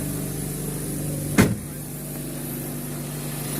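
Toyota Corolla with a hard-starting problem idling steadily, a low continuous engine hum heard close with a single brief knock or click partway through and no talk.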